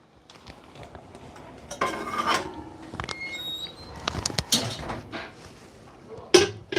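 Batter going into a metal baking pan, with scattered clinks and scrapes of utensils against metal, a few sharp taps and softer stirring sounds close by, irregular and moderately quiet.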